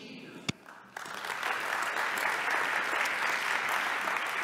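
Applause for the doctorates at TalTech's 102nd anniversary academic ceremony: a single sharp clap first, then a full hall of clapping swells in and holds steady and moderately loud.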